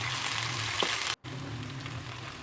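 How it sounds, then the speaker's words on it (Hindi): An onion sizzles in a little oil in a frying pan, a steady hiss and crackle at close range. There is a brief cut partway through and no talk. "फ्राई में थोड़ा सा ऑयल और उसके अंदर मैंने एक प्याज ऐड कर दिए"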